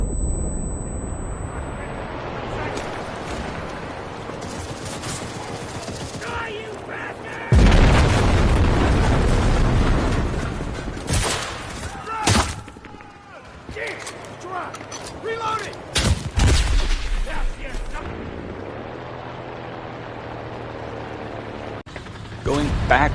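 Loud booms, explosions and rattling gunfire in a tank battle in the shooter game Enlisted, with a Molotov thrown at the tank, plus mechanical clanks and bursts of intense combat noise.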